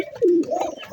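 High-flying pigeons kept together in one place, with a single soft, low coo that swells and fades within a second at close range.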